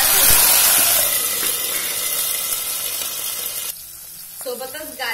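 Vegetables for Schezwan fried rice fry in a hot pan as a loud, close, continuous hissing sizzle that dips briefly near the end before flaring again, with no talking.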